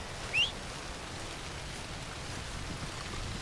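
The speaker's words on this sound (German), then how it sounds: "Ein Glück regnet's" Steady rain in the Red Dead Redemption 2 world falls as a soft, even hiss, quiet and constant, with one brief higher chirp near the start.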